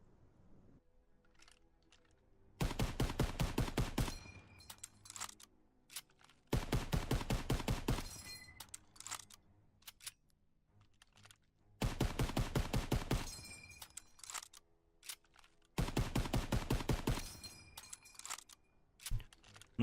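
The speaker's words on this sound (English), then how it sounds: "The next thing I want to take a quick look at is maximum fire rate with the M1 Garand." An M1 Garand rifle fires as fast as possible in Call of Duty WWII, in four dense bursts of rapid shots separated by pauses of a few seconds.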